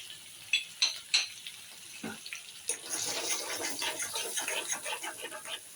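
Chopped green chilies dropped into hot white cooking oil for paneer butter masala, a few sharp clicks and stirring knocks giving way to a steady crackling sizzle that fills the rest of the moment.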